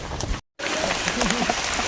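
Rain falling on a mountain trail on Mount Sindoro, a steady close hiss of drops broken by a brief cut to silence, with a voice faintly underneath.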